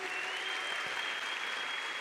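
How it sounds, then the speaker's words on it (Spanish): A church congregation applauds in a brief, steady wash of clapping from a crowd, moderately distant and even throughout. "Dale un fuerte aplauso al Señor Jesús."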